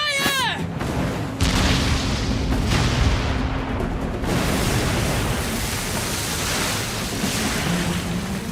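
Cannon fire from a pirate ship in the game Like a Dragon: Pirate Yakuza, a loud booming blast followed by sustained rumbling broadband noise like surf and gunfire, with a voice briefly heard at the start.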